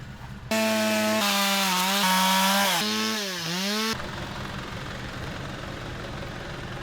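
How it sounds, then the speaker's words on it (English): A chainsaw revs loudly with a steady whine that shifts pitch as it bites into wood, then drops to a rougher idling rumble. "Chainsaw's going, better get back to it."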